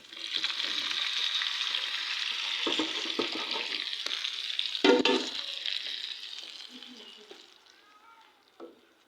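Chicken balls sizzle and crackle in a pan with tomatoes, a steady frying hiss with occasional stirring clatter, louder midway then easing off toward the end.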